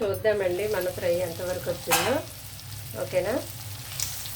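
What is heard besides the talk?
prawns frying in oil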